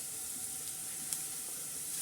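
Garlic sizzling in hot oil in a pan while making a lemon and green chilli dish, a steady soft crackling hiss with no talk.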